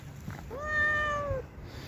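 A single cat meows once, close and clear, a drawn-out cry of about a second with a slight rise and fall, set against a quiet room.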